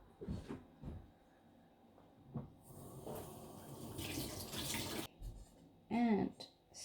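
Tap water runs into a kitchen sink while food is rinsed, a hissing stream in the middle of the clip with faint clatter and a brief voice around it.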